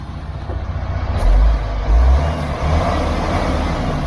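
A MAN TGX 18.510 truck engine rumbles close by, rising in a few short surges as it accelerates, with a steady low drone between them and no talking.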